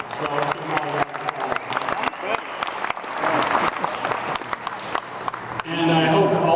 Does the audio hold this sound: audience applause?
yes